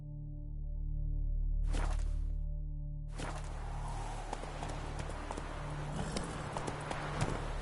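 Horse hooves clip-clop in The Witcher video game, a steady run of close, crisp hoofbeats starting after a short whoosh and continuing with even rhythm over a low ambient backdrop.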